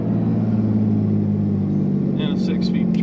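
Steady, loud low rumble of a 2001 Dodge Ram 24V diesel with a 6-speed manual, hauling about 8,000 pounds of camper up a steep climb, constant drone with someone speaking over it near the end.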